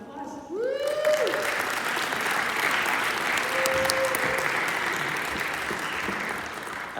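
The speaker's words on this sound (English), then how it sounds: "Let's give him a round of applause." Conference audience applauding a presenter at a music educators' session, full steady clapping from a sizable crowd, with a whoop and brief cheering voices near the start.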